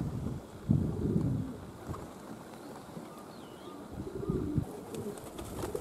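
Pigeons coo softly from a stable roof on a windy day. The low, muffled calls come in a few short bouts under steady wind buffeting the microphone.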